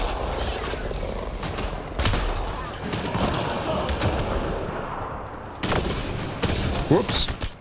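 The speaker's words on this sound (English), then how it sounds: "Ooh, this pistol's a big boomer." Pistol shots in the sci-fi video game Mass Effect: Andromeda, a few heavy booming blasts amid loud combat noise and game ambience.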